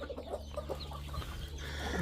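Chicks and hens cluck and peep softly in a garden around feed, a low, busy scatter of close calls.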